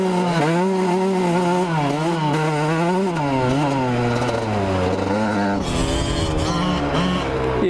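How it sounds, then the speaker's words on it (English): A small dirt bike engine revs loudly and close by, its pitch climbing and dropping in repeated surges, then shifting to a rougher, lower roar near the end. "Really revving this bike up today."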